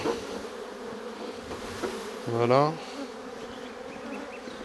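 A steady buzz of bees around a hive hums throughout, swelling briefly as a bee passes close; a voice speaks a single word.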